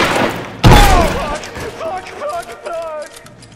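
Gunfire in the video game L.A. Noire: a single loud, close shot followed by ringing decay, with voices talking before and after.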